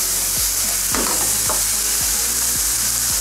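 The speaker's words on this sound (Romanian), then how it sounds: "Am încins tigaia asta, o să punem și ficăței la prăjit." Chicken livers fry in a hot pan with a dense, steady sizzle, while several sharp scraping stirs recur at a regular pace; no voices are heard.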